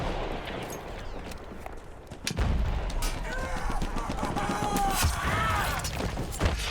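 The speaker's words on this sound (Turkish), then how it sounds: "Bomba fırlatıyorum." A thrown grenade bursts with a booming blast amid gunfire in the World War I shooter Battlefield 1, the explosion landing partway through and followed by sustained battle noise and someone talking.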